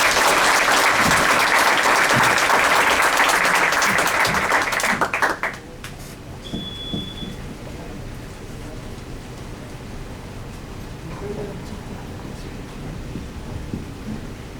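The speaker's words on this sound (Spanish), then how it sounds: "no sin antes darle un fuerte aplauso" Conference audience on human rights gives strong applause: loud, dense clapping for about five seconds that drops off sharply into a quieter hall with low background noise and brief faint sounds.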